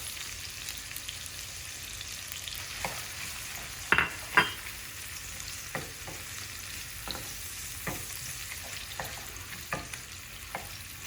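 A pre-blended onion and pepper mix sautés quietly in a pan with a steady soft sizzle. Occasional clicks and scrapes of stirring sound throughout, and a couple of louder knocks come near the middle.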